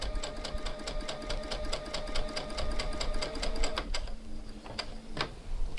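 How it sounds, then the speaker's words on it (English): A sewing machine runs fast and evenly as it chain-sews fabric pieces one after another, then slows and stops with a few scattered clicks. "It's called chain sewing."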